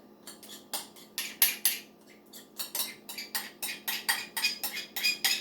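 Salad being tossed and stirred with dressing in a bowl, a run of crisp clinking utensil knocks, irregular at first and then settling into a steady rhythm, close and clear with no talk.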